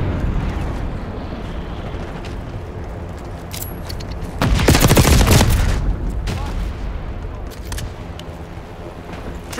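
A napalm strike in the multiplayer game Call of Duty Black Ops 6 erupts as a loud, roaring explosive blast that swells for about two seconds midway, over a steady rumble of distant gunfire and battle noise.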